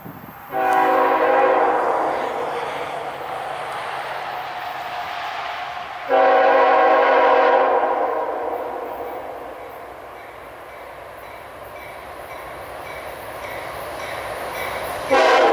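Two heavy C44-9W diesel locomotives rumble steadily past pulling a very heavy train, their horns blaring in two long blasts, loud and close, with the grinding roll of wagons between.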